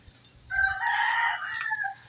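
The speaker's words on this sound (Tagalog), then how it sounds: "Dito tayo guys sa ating alagang manok." A pet rooster gives a single close, loud crow lasting about a second and a half in a quiet rural setting.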